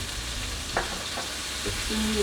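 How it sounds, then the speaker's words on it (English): A Ramly beef burger patty sizzles steadily in a hot pan, a soft constant crackle with a few faint clinks and scrapes. "Oh, now we're sizzling, man."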